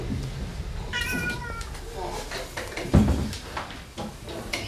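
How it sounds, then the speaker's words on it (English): A pet cat meows at the vet's during an examination, a few short cries mixed with voices of people talking nearby and some clatter of a basket or table. "Pop the cat down on the table."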